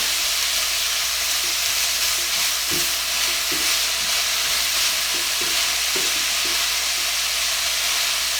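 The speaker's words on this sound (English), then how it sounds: "Go ahead and stir this over. There's not hardly any grease in this sausage" Low-grease sausage frying and being stirred in a pan for a breakfast casserole, producing a constant loud sizzle with occasional scraping knocks from the spoon, no talking.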